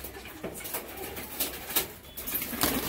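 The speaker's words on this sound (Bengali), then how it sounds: "দুটো পায়রা রয়েছে আপনারা দেখতে পাচ্ছেন।" A pair of pigeons coos softly amid a constant hiss of background noise, with a few brief, faint rustling bursts scattered through the moment.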